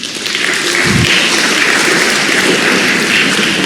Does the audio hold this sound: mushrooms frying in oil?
no